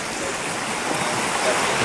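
River water flows steadily beside the grounds of the former North Wales Hospital in Denbigh, a continuous broadband rush close by with no distinct events.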